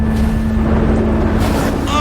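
Strong wind buffets a suspended sky platform, a steady loud roar of gusting air over the microphone with a low rumble underneath, continuous for the whole stretch.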